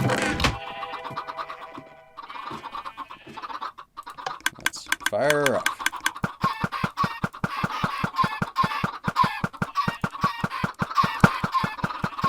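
Chickens cluck in the Minecraft video game, with short fowl calls amid a steady run of rapid rhythmic clicks. Someone talks briefly near the start.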